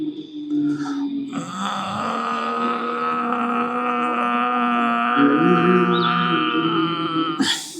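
A person breathes through the throat during a yoga breathing exercise, voicing a snore-like sound in imitation of a small child snoring. It is one long, loud, droning groan with a steady buzzing pitch, close by.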